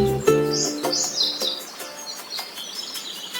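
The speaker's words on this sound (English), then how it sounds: "birds somewhere in the trees" Birds chirp and tweet in quick, bright bursts, several calls overlapping at moderate distance with no voices, in mountain trees around Kasol.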